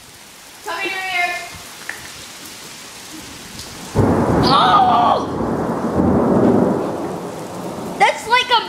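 A giant Colorado thunderstorm: steady rain hisses, then a heavy crack and rumble of thunder breaks in and the rain roars louder, while people nearby exclaim and call out.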